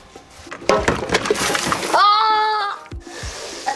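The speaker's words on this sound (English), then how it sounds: "Okay, back to bucket washing." Water splashes and sloshes while a bucket is washed, a burst of splatter close by followed by a short tonal squeak, with a voice faint in the background.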